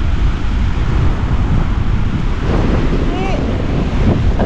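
Strong northeast monsoon wind buffets the microphone on a beach, a loud, constant roar mixed with surf, and a brief faint voice is heard.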